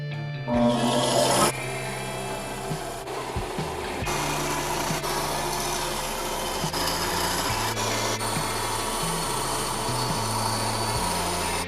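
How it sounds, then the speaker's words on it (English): A bandsaw cuts through a piece of wood: a steady, loud whirring rasp runs almost continuously after a brief higher-pitched start, with no voices. "Now I'm going to use the bandsaw to cut this piece out."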